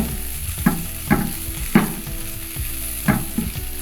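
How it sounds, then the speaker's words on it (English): Pak choy sizzles in a pan with ginger and garlic during a quick sauté, with a steady frying hiss and several distinct stirring clatters at uneven intervals. "this is just a quick saute"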